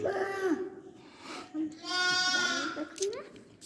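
Lambs bleat in a sheep pen on a small livestock farm, with several wavering, nasal cries close by, one long call in the middle, and people talking in between.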